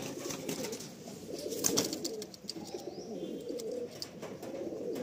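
Pigeons of the Face Beauty breed coo steadily in a loft kept for sale, with soft overlapping calls and faint wing and shuffling noises, close by and fairly quiet, with no talking.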